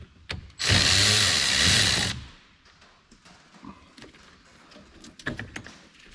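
A 10 mm wrench loosening the negative battery terminal on a 2014-2020 GM SUV begins with a loud, close two-second whirring burst. Softer clicks and light metallic handling noises follow.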